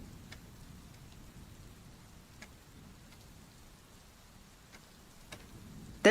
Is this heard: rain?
yes